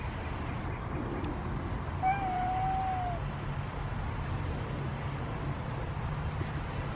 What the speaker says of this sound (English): First he hisses and then he meows.